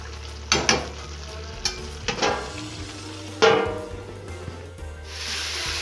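Beef browning in a pan for goulash, a close, steady sizzle broken by several sharp scraping stirs and a louder hiss midway, with no talking.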